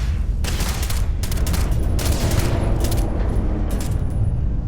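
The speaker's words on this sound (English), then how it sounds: "Heretics identified. I am opening fire." Sustained bursts of rapid automatic gunfire in the Starfield video game, loud and dense with a low rumbling backdrop, several volleys running back to back with no talk.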